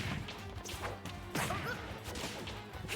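Forward smash attacks landing in a Super Smash Bros. tournament match, a run of sharp whacking hits and swooshes in dense game audio, with commentary voices faintly underneath.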